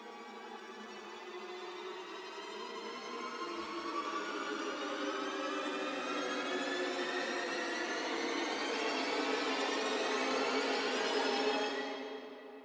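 A long orchestral string riser, many bowed lines sliding steadily upward in pitch and swelling, then cutting off abruptly.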